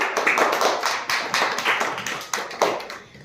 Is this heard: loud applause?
yes